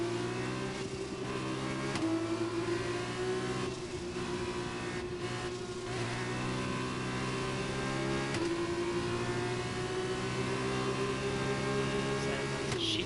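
A Formula 2 race car engine in the F1 2021 racing game at the Spanish circuit, a steady high-revving whine held at near-constant pitch with brief shifts, fairly quiet and with no talk.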